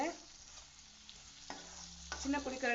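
Citron pieces sautéing in sesame oil: a soft, steady close sizzle with occasional stirring scrapes that grow louder near the end.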